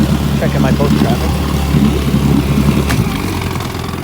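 A 1959 10 HP Evinrude outboard idles on a boat, giving a close, steady, rumbling hum at an even pace that softens slightly near the end.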